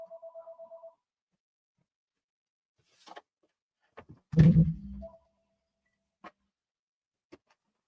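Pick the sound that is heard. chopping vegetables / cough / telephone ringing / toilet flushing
telephone ringing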